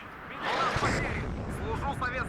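Distant artillery fire thuds and rumbles through a WARNO battlefield, partly masked by someone talking over it.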